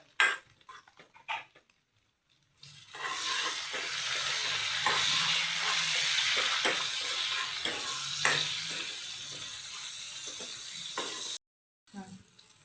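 Chopped onion and tomato sizzle in a pan with salt and bay leaf, a steady frying hiss with stirring scrapes and utensil clinks, framed by brief quieter clatter at the start and end.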